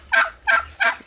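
A turkey gobbles three times in quick, evenly spaced bursts inside a poultry house, loud and close with little else around.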